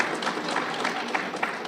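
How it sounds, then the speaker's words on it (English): Audience applause at a university inaugural lecture, a steady wash of many hands clapping at moderate volume throughout, with no distinct voices standing out. "You can clap a hand for us."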